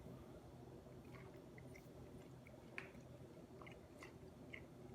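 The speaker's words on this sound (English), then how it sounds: "that was me eating a mussel" A smoked mussel in olive oil and broth is chewed quietly up close, with soft wet squishes and a few small clicks over faint background hiss.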